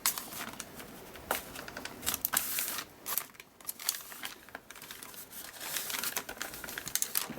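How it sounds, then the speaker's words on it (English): Waxed thread trimmed with scissors after tying knots on a slimline Christmas memory journal, a run of quick close snips and small crinkly rustles, no voices. "then just trim off the excess"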